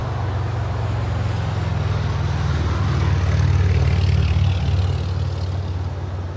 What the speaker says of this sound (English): Asiana Airlines Flight 202 coming in from Seoul. It's an A350-900.